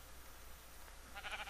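Sheep bleating in the Minecraft video game, a short burst of bleats near the end of the clip, fairly faint over a quiet background with no one talking.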